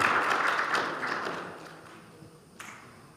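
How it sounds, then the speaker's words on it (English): An audience claps hands at the live draw for the ISF World School Volleyball Championship, a short round of applause that starts fairly loud and gradually fades, ending with a single isolated tap. "Clap your hands for"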